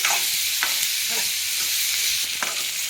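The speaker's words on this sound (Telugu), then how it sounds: "ఇప్పుడైతే మంచిగా కలుపుకోవాలి నూనె అంతా ఈ ముక్కలో పట్టేటట్టు" Capsicum pieces stirred in hot oil in a pan give a steady, close sizzle of frying, with a few sharper scrapes of the spoon along the pan. No one speaks.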